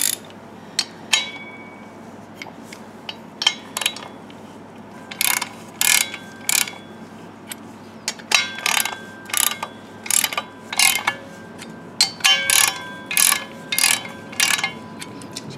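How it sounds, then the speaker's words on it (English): A hand ratchet clicks in quick bursts while tightening flex plate bolts onto the crank snout of a third-generation Camaro engine, loud and close with pauses between strokes. "I'm gonna go star pattern and slowly tighten this down until the flex plate seats onto the crank snout."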